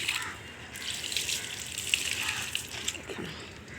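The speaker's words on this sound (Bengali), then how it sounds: "এই দেখুন পুরো স্নান করিয়ে দিচ্ছি গাছগুলোকে" Rooftop plants being soaked with water, a steady hissing splash and spray of water pouring onto leaves and soil, fairly faint and continuous.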